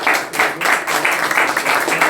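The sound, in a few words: congregation clapping as an offering in church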